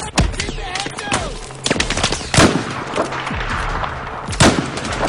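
Repeated gunfire in the video game Battlefield 4, sharp loud bursts and single shots cracking close by over a busy battlefield background, with a few heavier booms.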